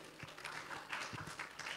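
Audience applause at the 4th International Conference on ASEAN MRA-TP, a steady spread of clapping from a hall crowd lasting under two seconds, moderately distant and without talk over it.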